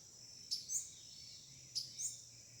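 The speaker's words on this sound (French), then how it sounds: "j'ai les oiseaux de la forêt" Forest birds at about seven in the early morning give two short, bright chirps a little over a second apart, fairly faint against a quiet background.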